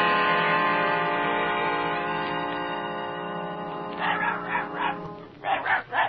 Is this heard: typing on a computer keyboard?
no